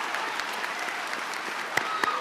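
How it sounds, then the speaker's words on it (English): Graduation audience applause, a soft, scattered patter of clapping from a modest crowd, with a few sharper claps standing out near the end. "Yeah, I like that, let's clap,"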